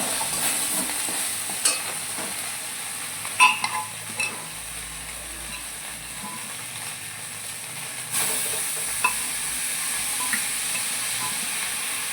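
Pressure-cooked vegetables for veg momo filling are stirred in a hot pan, with a low, steady sizzle and hiss under occasional scrapes and knocks of the spoon, close and without talk.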